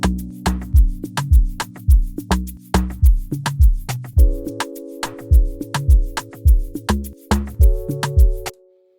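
Piano and electric piano preset plays a chordal pattern in an Afrobeat-style beat, with short, punchy repeated chord stabs in a steady syncopated rhythm that shifts to a higher chord midway, clear and close with no talk.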